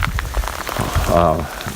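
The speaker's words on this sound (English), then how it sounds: "non-stop rain in May" Steady rain patters on a surface close by at the Grand Canyon, a constant wash of drops with a brief voice-like murmur partway through.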